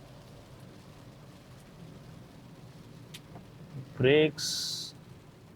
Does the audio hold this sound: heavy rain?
yes